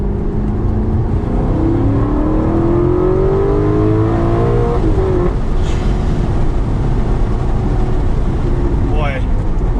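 An Alfa Romeo 8C Competizione engine roars hard under load, pitch climbing steadily as it accelerates, then a quick shift and more revving with road and wind noise.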